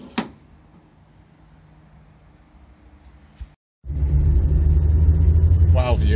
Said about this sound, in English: it's time to go for a fun little drive with a car with a 49 horsepower and a 4-speed gearbox